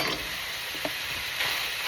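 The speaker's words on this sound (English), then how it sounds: "So then you put your onion in and you give it another stir." Chopped onion sizzles and fries in a pan while being stirred, a close, continuous crackling hiss with a soft scrape or tap of the utensil partway through.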